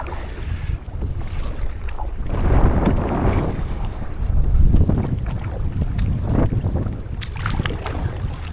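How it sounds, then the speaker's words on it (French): Gusty wind blows across a small lake with little waves during a canoe trip, roaring in uneven surges and buffeting the microphone with no talking throughout. "Parce qu'il y a quand même un bon vent."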